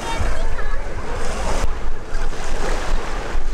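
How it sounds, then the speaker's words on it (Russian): Strong wind roars across a beach at a Turkish seaside resort near Izmir, a steady, loud buffeting rush mixed with breaking surf that continues for the whole stretch. "дует сильный ветер"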